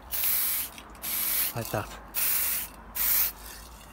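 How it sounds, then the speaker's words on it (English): A spray gun hisses in four steady strokes while painting a bicycle part, each burst stopping abruptly, with a brief ratcheting click between them and a voice speaking briefly. "you stop the spray at the end of the stroke."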